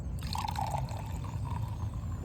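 Evan Williams whiskey pours into a glass, a soft steady liquid trickle with light dripping splashes heard close up in a quiet room with a low background hum.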